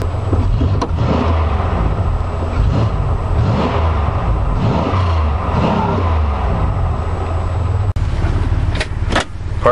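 A 1999 Buick Century's engine running steadily with loud, close idle rumble and repeated rising revs, continuous throughout without speech.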